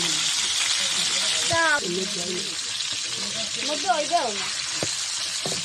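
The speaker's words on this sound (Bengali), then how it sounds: "এক চুলে মাছ ভাজা বসাইছে" Tilapia fries in oil on a stove, giving a steady crackling sizzle throughout, while several people talk close by over it.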